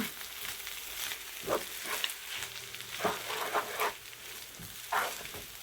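Rice noodles with coriander leaves are tossed in a hot pan, a quiet, steady sizzle with soft, irregular stirring scrapes and clacks, and no one speaking.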